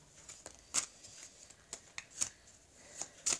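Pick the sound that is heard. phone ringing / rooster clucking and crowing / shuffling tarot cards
shuffling tarot cards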